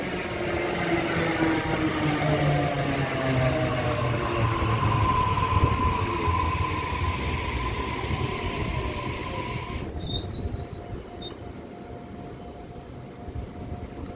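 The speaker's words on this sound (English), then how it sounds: "we have a Warata A-set arriving onto platform number 3, Hornsby service." A Waratah A-set suburban electric train, set A8 on a Hornsby service, pulls into platform 3 at Denistone station with a steady loud rumble, rising whine and wheel-rail hiss that holds throughout, shifting to higher tonal squeal near the end.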